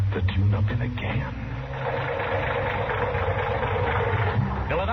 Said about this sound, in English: that engine of yours sounds like real tired iron